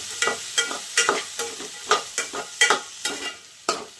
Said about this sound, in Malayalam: അത് നമുക്കൊന്ന് തട്ടിക്കൊടുക്കാം ഇളക്കി കൊടുക്കാം കേട്ടോ